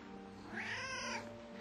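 A cat gives one drawn-out, wavering meow, close and clear, heard over a low steady background hum with no talking.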